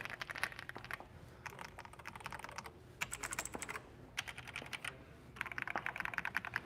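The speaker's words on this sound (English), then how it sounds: "I like some of these keyboards, they're nice." Computer keyboard typing in bursts of rapid clicking separated by short pauses, close and fairly loud, with no voices.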